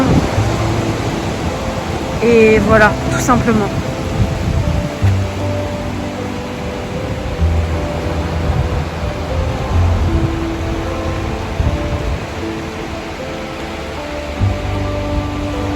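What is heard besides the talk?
ocean waves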